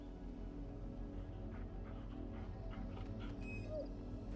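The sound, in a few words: dog whimpering in Final Fantasy XVI video game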